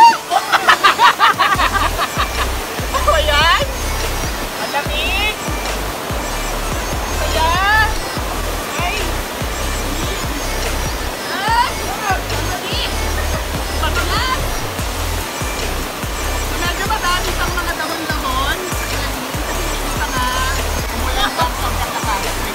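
A waterfall at Alibeng, Sison, Pangasinan roars steadily and loudly throughout, with people talking over the rushing water.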